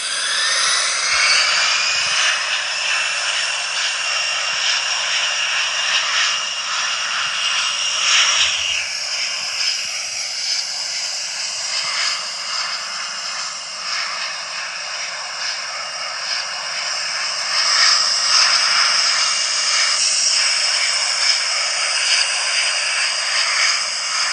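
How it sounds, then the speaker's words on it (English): Jet engines on a Turkish Airlines airliner spool up for takeoff, a loud sustained roar with a rising whine that holds steady and swells again near the end, no talking. "The flight started throttling up in order for takeoff"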